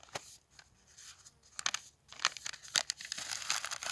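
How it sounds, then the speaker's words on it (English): A filled-out paper field sheet for moss sampling is folded up by hand, giving close, quiet crinkles and crisp rustling bursts that grow busier toward the end. "You're going to take your field sheet that you've filled out. You're going to fold that up."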